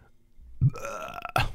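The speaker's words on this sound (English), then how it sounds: "I think that was not a good burp." A single deep, drawn-out burp, close and fairly loud, rising into a rough voiced middle and ending with a brief throaty release.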